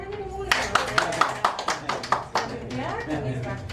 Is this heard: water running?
no